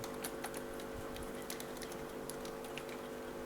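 Code being typed on a computer keyboard, quick light key clicks in uneven bursts, close and quiet, with no talking.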